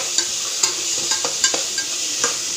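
Ginger garlic paste sautéing in a pan gives a constant bright sizzle, punctuated by light, regular taps and scrapes of a stirring spoon, close and fairly loud, with no speech.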